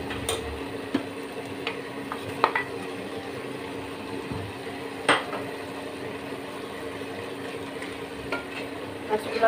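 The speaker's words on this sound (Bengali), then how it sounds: "মাছগুলো দিয়ে একটু নাড়াচাড়া করে দিই।" Hilsa fish pieces fry in a pan and get stirred, a low sizzle broken by scattered utensil taps and clicks against the pan, without speech.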